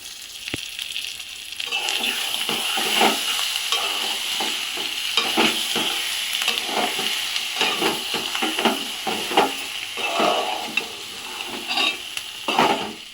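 Stuffed brinjal curry with chillies, coriander and curry leaves cooking in a pot, giving a steady bubbling sizzle with repeated scraping stirs, close and moderately loud, no voices.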